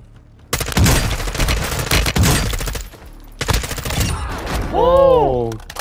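Rapid gunfire bursts from Warzone 2, loud dense volleys of automatic shots in two long strings broken by a brief pause, followed by a rising-and-falling tonal effect near the end, with a voice speaking briefly.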